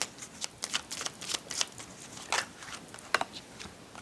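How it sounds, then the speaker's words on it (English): A deck of tarot cards is shuffled close by, with rapid papery riffles and flicks in irregular bursts and a few sharper snaps as cards are pulled, no voices. "Let's pull a few more cards."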